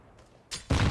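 Grenade explosions in a competitive shooter video game match: two sharp, booming blasts in quick succession, the second louder and fuller, following a quiet moment.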